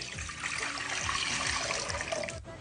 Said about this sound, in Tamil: துவரம்பருப்பு போடுறதுக்கு 1 லிட்டர் தண்ணி ஊத்திக்கலாம்.